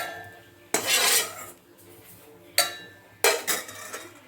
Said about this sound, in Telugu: వీటిని తీసి మిక్సీ జార్లోకి ట్రాన్స్ఫర్ చేసుకుందాం